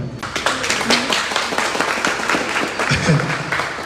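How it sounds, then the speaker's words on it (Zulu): An audience claps together in a sustained round of applause, a dense patter of hands running the whole time with some voices mixed in underneath. "Cha ngathi ukuthi ngicela simnikeze ihlombe."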